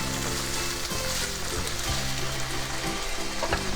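Pork chops fry in a hot pan with a steady, dense sizzle and crackle that continues without pause, close and moderately loud.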